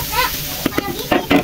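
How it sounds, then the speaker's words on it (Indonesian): Sliced shallots and large chili peppers stir-frying in a pan, a loud, close sizzle with several sharp scrapes and clatters of the utensil against the pan. "Terus ditumis kayak gini aja."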